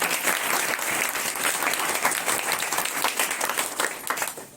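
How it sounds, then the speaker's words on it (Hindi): A church congregation at a Sunday service claps loudly together, a dense, steady wash of applause that holds at full strength for several seconds with no talk over it. "सभी जोर से तालियां बजाएंगे।"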